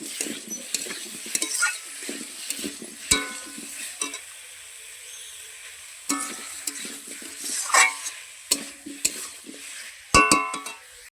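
Potatoes being sautéed with hilsa fish in a pan, an intermittent sizzle broken by repeated scraping and clinking of a spatula against the pan, close and without talk.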